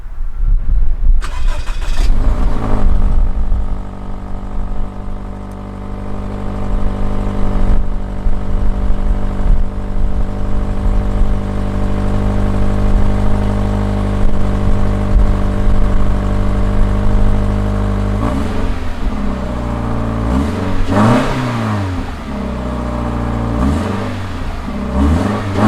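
A 2017 Toyota 86 coupe's 2-liter Boxer flat-four engine, manual transmission, idles steadily and close by for a long stretch, then gives several sharp rising and falling revs near the end.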